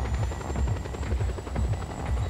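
Military helicopter in the video game Just Cause 2, a steady, loud rotor thump with a pulsing low chop and constant engine whine throughout, no voices.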